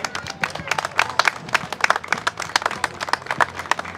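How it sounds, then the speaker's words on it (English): An audience claps for a mounted equestrian parade of young riders, with brisk, uneven handclaps from a moderate crowd, steady and close for a few seconds. "Please applaud for the young equestrians trotting with pride holding the fluttering pachranga."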